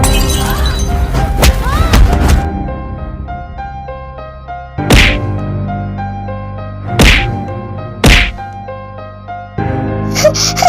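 Beating and punching effects in a dramatised dark mafia audio story: several heavy, separate thuds and smacks spaced a couple of seconds apart, loud and close, over a sustained musical background, with voices early on.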